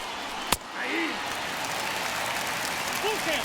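Crowd of about 35,000 at a baseball game between the Phillies and Nationals, a steady roar of cheering and clapping after a sharp crack, sustained and loud under a broadcaster's voice and whistles.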